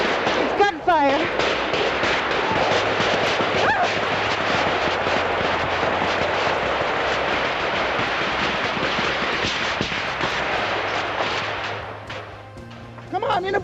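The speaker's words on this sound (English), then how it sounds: "It's gunfire." Gunfire during the Oka standoff, the deadly Mohawk land dispute over a golf course, crackles as a dense, sustained barrage of sharp reports that stays loud nearly the whole time, with voices faintly audible in the background.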